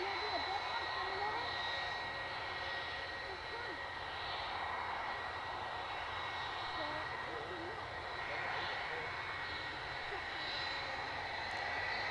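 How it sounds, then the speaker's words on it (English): An ATR turboprop airliner rolls for takeoff at Edinburgh Airport, a steady distant engine drone with a faint whine that holds throughout, without any talk. "we've got an ATR on the roll"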